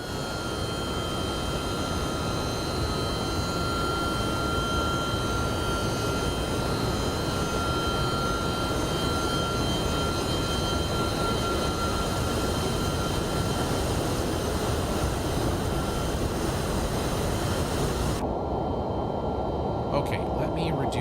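A steady, loud engine drone fills the cockpit of an MD-11 trijet in the X-Plane 12 flight simulator, a constant broadband roar with a thin whine above it, unbroken until it thins near the end.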